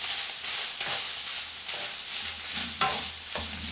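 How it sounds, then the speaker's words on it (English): Steady sizzling and crackling of lean ground beef frying in a pan, with occasional scraping stirs, close and continuous. "lean ground beef has been frying for a couple of minutes there"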